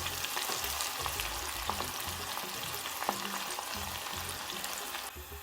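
Onion, garlic and ginger fry in hot chili oil while being stirred, making a dense, continuous close sizzle with soft stirring scrapes that eases off near the end.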